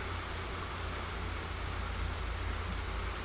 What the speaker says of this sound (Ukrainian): Аж сиво, дивіться, який дощ.